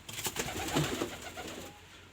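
Ornamental pigeons coo softly in low, throaty murmurs over a hissy background, close by for a couple of seconds, with no talking.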